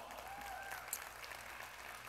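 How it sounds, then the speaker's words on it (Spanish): A church congregation applauds the fathers on Father's Day, a faint, steady patter of clapping heard from a distance. "Denle un fuerte aplauso a todos los papás."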